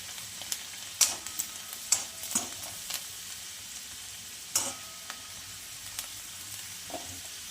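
Garlic pieces fry in hot oil in a pan for Gujarati moong chhuti dal, giving a soft, steady sizzle broken by occasional sharp clicks of stirring, quiet and close.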